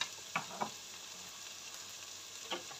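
Food cooks gently in a pan, giving a faint steady sizzle and frying hiss with a few soft clinks from stirring.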